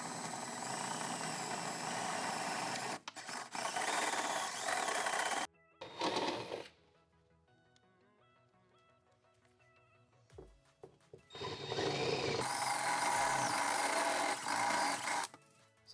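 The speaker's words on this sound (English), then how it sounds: "So I'm going to drill a 12mm hole here." An electric drill bores a 12mm hole in the body of a Nissan Cube Z11 for a rear wing, with two long loud whirring runs separated by quieter stretches of faint clicks and knocks.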